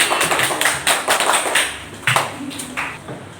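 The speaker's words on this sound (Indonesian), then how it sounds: "Beri aplaus untuk kelompok 4." Classroom applause for a student group, a burst of scattered hand claps and taps from a small crowd lasting a few seconds, fairly close and uneven.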